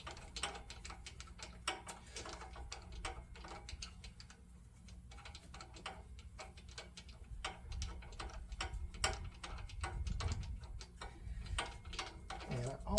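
Ratchet clicking steadily as it breaks loose and backs out spark plugs on a Husqvarna zero-turn mower, a quick run of close, crisp metallic ticks with some low rumble underneath.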